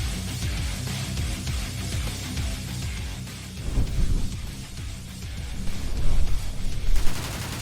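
A PPK submachine gun fires in a shooter game as dense, rapid bursts of close gunfire, with a busy crackle of shots and heavier thumps rising near the end.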